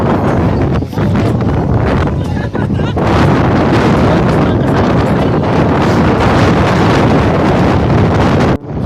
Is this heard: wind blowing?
yes